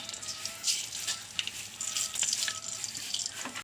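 Mustard seeds crackle and sizzle in hot oil while tempering sambar, a steady close frying hiss with scattered sharp pops throughout, no voices.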